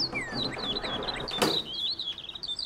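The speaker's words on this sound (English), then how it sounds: "Birds are bloody noisy." Birds chirp outdoors in a steady stream of high, quick tweets with overlapping calls, plus one sharp knock partway through.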